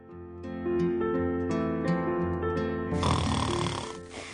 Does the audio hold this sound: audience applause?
no